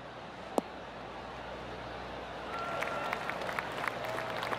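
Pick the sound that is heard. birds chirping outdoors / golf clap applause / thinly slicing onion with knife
golf clap applause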